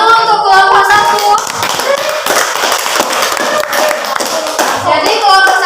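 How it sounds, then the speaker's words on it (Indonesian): Students clap for a group at a school teaching-practice class that presented liquid organic fertilizer made from coconut husk and vegetable waste; dense, loud clapping from a room of people with some voices mixed in. "Tepuk tangan dulu untuk kelompok 1."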